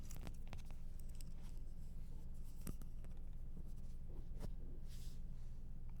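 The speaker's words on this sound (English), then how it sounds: "dip it in the ink, and write with it" A metal calligraphy nib in a holder, dipped in ink, scratches softly across paper in short faint strokes, with a few slightly sharper scrapes against a low steady background hum.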